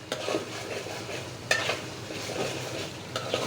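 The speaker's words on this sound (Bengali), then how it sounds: "আচার দেওয়ার জন্য মশলা কষাচ্ছি" Spices being sautéed in a pan for pickle, a low continuous sizzle with a few scraping stirs and a faint clink of metal, fairly quiet and close, no talking.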